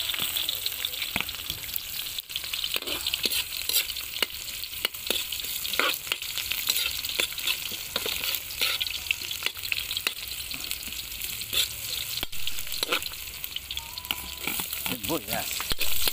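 Garlic sizzles and fries in a pan with a steady crackling hiss, punctuated by occasional scrapes and clinks of stirring, close and continuous throughout.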